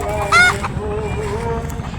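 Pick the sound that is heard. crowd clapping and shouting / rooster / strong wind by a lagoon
rooster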